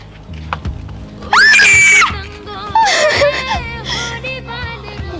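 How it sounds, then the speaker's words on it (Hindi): A girl screams from a rooftop terrace, with two long piercing shrieks cutting over a busy background of other voices and noise. "ये तो उसी लड़की की चिल्लाने की आवाज है।"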